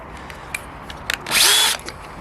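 A DeWalt DCD795 cordless drill drives a screw in one loud, close whir lasting about half a second, after a few light clicks and taps.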